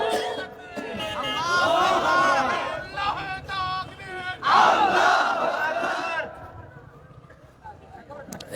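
A large crowd at a Bengali Islamic sermon roars Allahu Akbar in reply to a takbir call, in two loud, sustained bursts of massed voices before fading to murmur.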